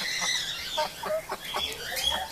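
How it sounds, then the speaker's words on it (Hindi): A hen on a rural farm clucks in a series of short, rhythmic calls at close range, with no voices over them. "अच्छी माशाल्लाह ये मादी है, बेहतरीन मुर्गी है।"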